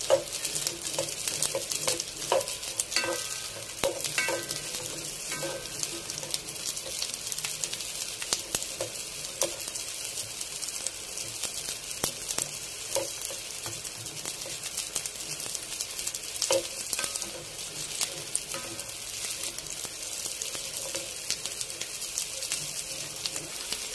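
Asparagus frying in a pan, a steady broadband sizzle running the whole time with scattered clinks and scrapes of stirring, close and fairly loud, no talking.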